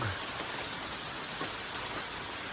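Steady rain falling at a farm, a dense, even hiss of drops on surfaces throughout, fairly faint, with no voices.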